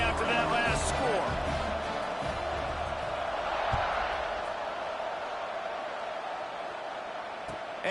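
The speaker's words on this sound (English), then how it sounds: "this crowd is buzzing after that last score" Crowd ambience from the College Football 26 video game: a steady, dense stadium buzz with occasional louder swells, running under game commentary throughout.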